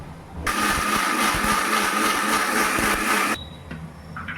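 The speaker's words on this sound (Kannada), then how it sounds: "ಇದಕ್ಕೆ ಒಂದು ರೌಂಡು ರುಬ್ಕೊಂಬಿಡೋಣ" Mixer grinder whirring loudly as it grinds coriander powder and spices, a steady blender-like roar lasting about three seconds before cutting off abruptly, with faint kitchen noise after.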